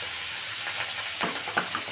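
Pangas catfish pieces frying in hot oil give a steady close sizzle with a few soft crackles and pops toward the end, no voices.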